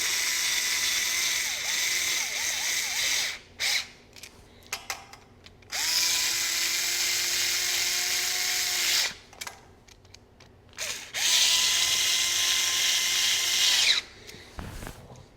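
A power tool tightening the oil filter on a BMW R1300GS motorcycle whirs in three long bursts separated by short pauses and small clicks, fairly close, with no speech.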